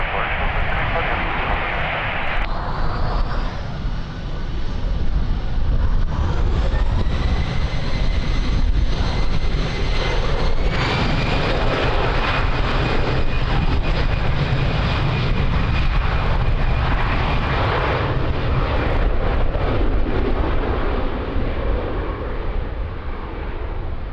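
A fixed-wing airplane takes off from runway 02 at Lisbon Airport on a windy day, a loud, sustained engine roar that builds and holds for the whole stretch, with radio voices talking over it.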